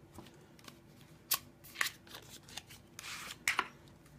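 A deck of Chameleons playing cards handled close up, with faint riffles, soft flicks and a few sharper snaps scattered over a quiet background and no talk.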